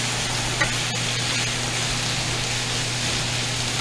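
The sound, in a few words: sautéing cabbage with bacon in a pan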